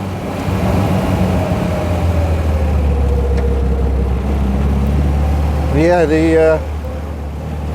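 An MGA classic roadster with a B-series engine drives along, its engine droning steadily and fairly loud throughout while someone talks over it, with a brief rising whine near the end.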